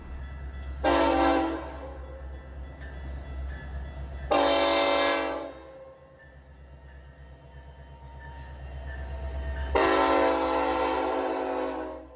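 Freight train led by an SD70 locomotive passing with three long, loud horn blasts over a deep, steady rumble and faint rail clatter.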